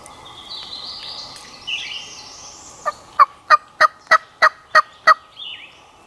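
A wild turkey in Alabama gobbling: a fast series of about eight loud, evenly spaced rattling notes heard clearly outdoors, with faint birdsong in the background.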